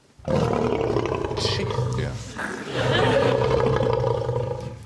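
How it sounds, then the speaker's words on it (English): A lion roar played as a demonstration on a TV panel show, a loud sustained roar running most of the clip with a short break midway, with a brief spoken interjection over it. "This is the sound of a lion."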